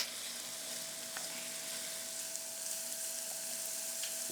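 Onions fry in a pan with a soft, steady sizzle and a faint hum underneath, plus an occasional light clink as they are stirred.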